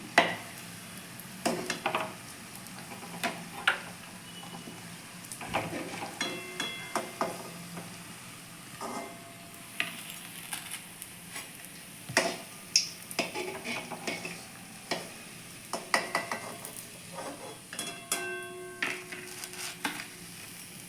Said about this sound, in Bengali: চপগুলো আমি উল্টো পাল্টে ভালো করে ভেজে নিয়েছি এবার আমি তুলে নেবো চপগুলো